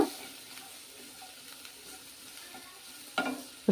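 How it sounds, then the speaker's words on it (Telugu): Tamarind leaves frying with garlic cloves and a chopped onion in a pan, giving a soft, steady sizzle with occasional stirring scrapes and a sharper clatter near the end. "ఒక మూడు నాలుగు వెల్లుల్లి రెబ్బలు ఒక మీడియం సైజ్ ఎర్రగడ్డ కట్ చేసి వేసుకొని చింత చిగురుతో పాటే ఒక నిమిషం వేయించుకుంటే సరిపోతుంది"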